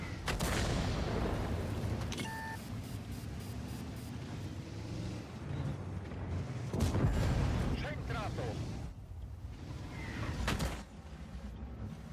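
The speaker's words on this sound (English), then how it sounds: "Artillery wasting his time on me here." Artillery shells landing during a World of Tanks match, a few dull booms and blasts under near-continuous talk and game noise, with one sharper impact near the end.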